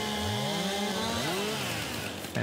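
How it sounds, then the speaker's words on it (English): A chainsaw in Farming Simulator 22 drones continuously as it cuts down trees, its engine pitch rising and falling with throttle, loud and close, ending with an abrupt change near the close. "These two trees can just be cut down with the chainsaw rather than a harvester."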